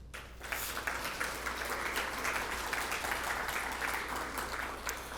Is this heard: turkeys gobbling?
no